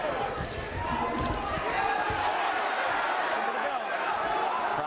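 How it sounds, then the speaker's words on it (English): Boxing arena crowd roaring steadily at the close of a round in a heavyweight bout, a dense continuous wash of cheering and shouting at fairly even loudness for the whole stretch. "Crowd reacts to Zumbert again"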